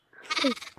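A single short sheep bleat from Minecraft on the CraftRise server, nasal and wavering, sounds up close and alone.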